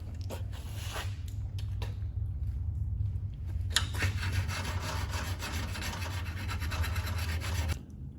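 A sharpening stone rubs burrs off the steel gaffs of tree-climbing spurs, a close, gritty scraping in uneven strokes over a steady low hum.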